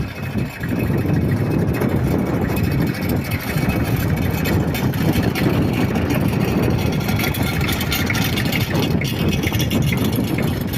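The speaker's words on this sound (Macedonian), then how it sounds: "Повторно видео со трактор." A tractor engine rumbles steadily at close range, a constant low drone running throughout with no pauses.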